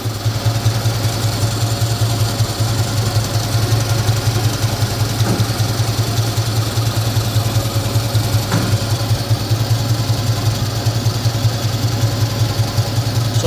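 A Mitsubishi 4G32 car engine idles steadily with a cut exhaust pipe, giving a close, loud, continuous low rumble with a faint mechanical ticking and no talk over it.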